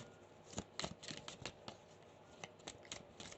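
Tarot cards are shuffled by hand in a quiet room, a faint run of soft, irregular riffling clicks and snaps that comes and goes, with no voice.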